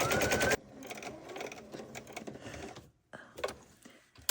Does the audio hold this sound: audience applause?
no